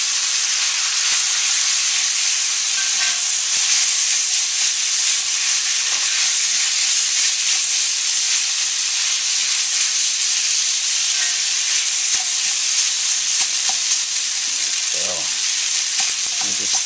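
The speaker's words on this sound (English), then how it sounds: "Just spread those out in a thin layer in the bottom of the wok, and we'll mix in our ingredients." Ramen noodles fry in a wok with scallions, giving a loud, steady sizzle and hiss that runs unbroken throughout, with occasional faint stirring scrapes.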